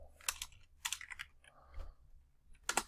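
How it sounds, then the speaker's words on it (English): Computer keyboard typing, heard as a few faint, close bursts of quick clicky keystrokes separated by short pauses. "we're just going to type false right here"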